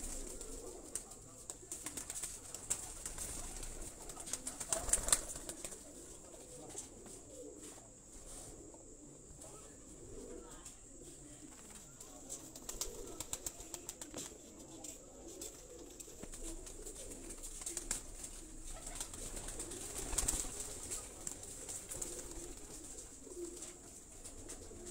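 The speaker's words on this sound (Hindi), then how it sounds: "ये कबूतर सारे उनके परवाज़ी कबूतर हैं" Pigeons kept for flying on a rooftop in Sialkot, cooing softly in low, intermittent calls over a quiet background, with a few faint brief knocks and movements.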